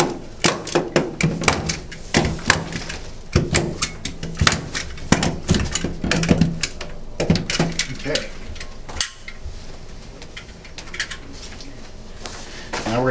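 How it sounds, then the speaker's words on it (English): Plastic sheeting being stapled to a wooden door casing for a dust barrier, a run of sharp close staple-gun snaps and knocks in uneven rhythm, with rustling plastic and brief speech between. "You should also staple the top perimeter of the plastic into the casing if possible."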